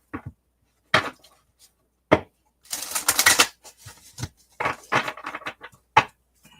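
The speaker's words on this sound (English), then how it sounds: "while I'm shuffling up Jessica's cards" Tarot cards are shuffled by hand, giving scattered riffles and taps followed by a dense burst of rapid card flutter, then more sporadic snaps, close and fairly loud.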